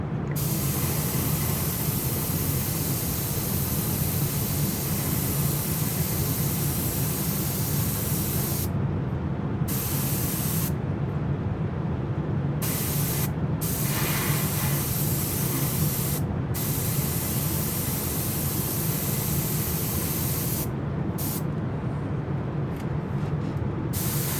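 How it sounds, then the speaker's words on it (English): An airbrush sprays paint onto a model ship, a continuous loud even hiss that runs the whole time with only slight flickers in the upper range. "This airbrush is so easy to use."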